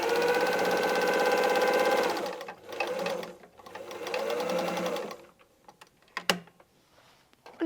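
Sewing machine stitching darts into fabric, with a fast, even mechanical whir that runs for about two seconds, stops, runs again for a shorter burst and then gives way to a few faint clicks and handling noises.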